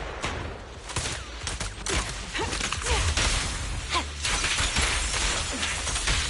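Rapid distant gunfire from the sniper Green Vulture in the video game Zenless Zone Zero, dense bursts of shots crackling over a busy, continuous layer of combat noise and effects.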